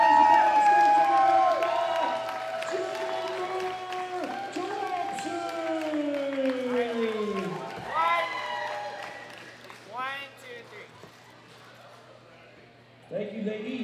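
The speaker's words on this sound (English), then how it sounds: "a big round of applause" An audience at a women's 63 kg classic powerlifting world championship cheers, whoops and applauds a gold medal winner who set a new world record. The crowd noise starts loud, fades gradually, swells briefly near the end, and a voice sounds over it.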